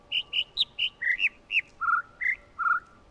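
Small bird chirping in a quick series of about ten short clear tweets, some rising and some falling in pitch, fairly close and alone over faint background hiss.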